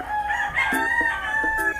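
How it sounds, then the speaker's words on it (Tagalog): A rooster crowing loudly and fairly close, a sustained wavering call lasting nearly two seconds, no voices. "naririnig yung manok dito sa aming kapitbahay."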